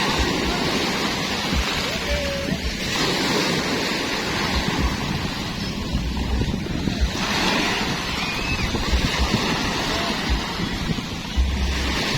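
Strong ocean waves at high tide crash and roar continuously on a beach in Catmon, with heavy surf wash and wind buffeting the microphone throughout.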